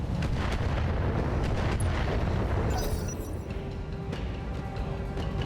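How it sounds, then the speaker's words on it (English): A BattleTech mech unloading a full weapon salvo in a wooded battlefield, a dense rumbling barrage of booms and blasts that rolls continuously, with a few sharper cracks standing out near the middle. "Firing a full salvo."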